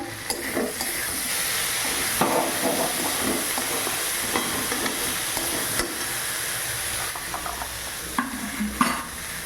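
Green chillies dropped into a hot pan for a semolina breakfast dish, frying with a continuous close crackling sizzle and occasional scrapes and clacks of stirring.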